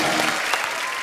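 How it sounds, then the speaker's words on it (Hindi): A studio audience at a comedy talk show bursts into dense, steady applause that stays loud and continuous throughout the short moment. "जोरदार तालियां हो जाए ब्रेड के लिए."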